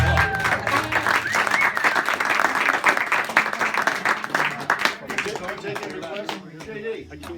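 Applause from a small audience at a casual 60s-songs music show, dense clapping sustained throughout and thinning toward the end, with voices talking over it.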